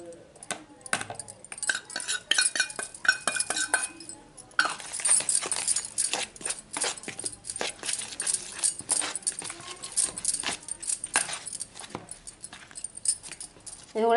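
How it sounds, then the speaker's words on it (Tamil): A utensil stirs and mixes coconut cake batter in a bowl, producing irregular clinks, taps and scraping knocks against the dish at close range throughout. "நல்லா கலந்து விட்டுடலாம்."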